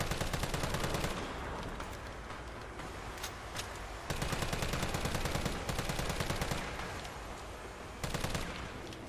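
Rapid bursts of close, loud gunfire in Resident Evil 3 Remake, shooting the sewer monster: dense volleys separated by brief pauses, with no talk over them.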